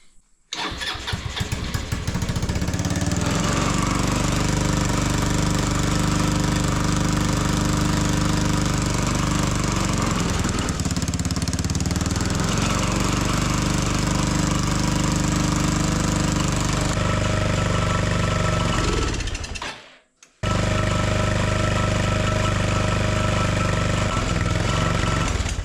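A small barn-find buggy engine runs and idles steadily with a loud, chattering mechanical drone, cuts out abruptly near the end, then quickly resumes running.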